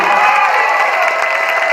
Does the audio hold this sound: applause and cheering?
yes